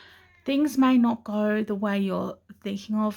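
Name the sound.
cat meowing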